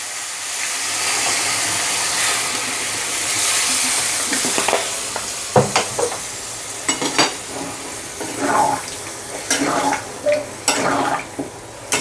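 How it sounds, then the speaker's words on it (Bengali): Chicken curry sizzling loudly in a pan as water is poured in, a burst of steamy hiss followed by bubbling and the clatter of stirring, with some faint background sound. "এবার এটার আমি জল দিয়ে দেবো"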